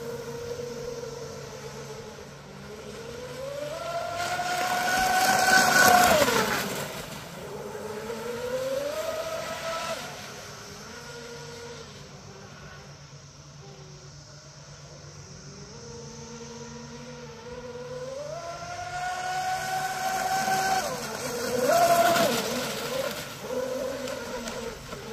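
A TFL Twin Cheetah RC boat running on a lake, its high-pitched motor whine rising and falling in pitch as it makes two loud passes, fading to quieter distant buzzing in between.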